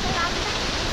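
Water rushing steadily through a pipe onto a turning wheel in a shepherds' hut in the Pamirs, a dense close hiss with no breaks.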